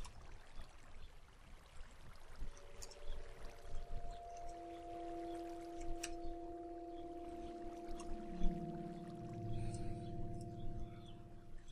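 Water pouring out from a dropped bucket in Minecraft, a soft steady flowing rush with tonal game layers rising, fairly quiet and continuous.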